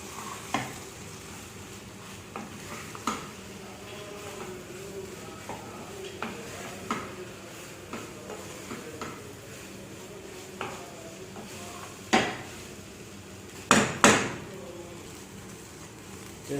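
A spoon scrapes and stirs soya chunks in a sizzling pan in a Schezwan-style stir-fry, giving irregular knocks and clatters over a steady low frying hiss, close and moderately loud.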